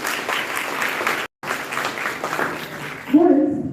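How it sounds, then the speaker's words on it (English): Applause from a seated audience at a chartered accountants' meeting, a moderate steady patter of clapping that breaks briefly, then carries on under a speaker's voice before a louder burst near the end. "Please clap for him."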